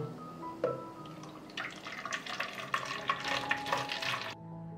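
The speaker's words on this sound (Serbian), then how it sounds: "I ovako dobijen čaj od kamilice sipat ću u prskalicu." Chamomile tea is poured into a spray bottle, a quiet trickle and gurgle of liquid that swells in the middle and stops abruptly just before the end.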